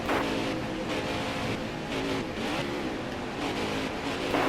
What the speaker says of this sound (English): Car Sputtering.